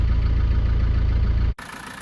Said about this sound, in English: quick video of the engine running when it's nice and warm on this 1993 Defender 90 200 TDI hardtop